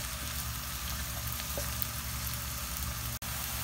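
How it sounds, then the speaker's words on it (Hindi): Chopped onions fry in a pan, filling the whole stretch with a steady, close, even sizzle that stays constant, with no talking. "प्याज को हम थोड़ा सा फ्राई कर लेंगे पहले।"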